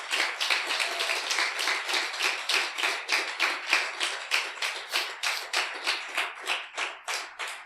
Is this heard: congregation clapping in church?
yes